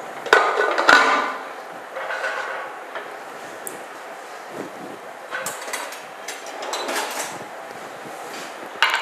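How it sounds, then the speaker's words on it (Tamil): A pressure cooker lid clanks shut and its metal weight is set on top in a home kitchen while making wheat rava vegetable pongal, with a couple of sharp metallic knocks early on, then lighter clinks and rattles. "இப்போ குக்கரை நம்ம மூடி வெயிட் போட்டுடலாம்"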